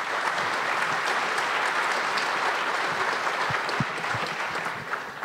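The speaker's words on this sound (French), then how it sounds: "On peut les applaudir." An audience at a regional conference claps in a dense, even burst of applause that holds steady for about five seconds before thinning slightly.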